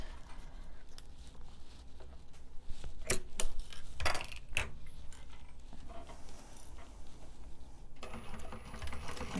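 A sewing machine fitted with a left-side zipper foot runs quietly nearby, with scattered sharp metallic clicks and taps among the soft mechanical hum, then a steadier stitching burst near the end.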